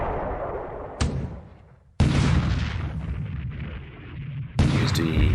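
Naval artillery booms in a war video game during a bombardment of Mindanao, three heavy blasts about a second apart, each followed by a long rumbling decay, loud and close with no talk over them.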